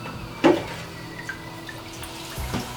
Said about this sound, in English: Now we're gonna put them in the water bath.